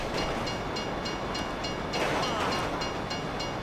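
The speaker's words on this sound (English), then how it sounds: "you'd know the train comes by right now!" A train passing by in Grand Theft Auto 5, a steady rumbling roar with faint rhythmic clacking pulses, swelling slightly midway and staying loud throughout with no talk.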